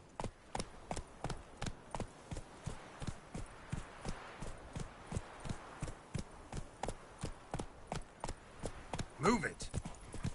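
Roach, the horse in The Witcher 3, gallops with a steady, rapid clip-clop of hooves, evenly spaced thuds continuing throughout, with a brief vocal sound near the end.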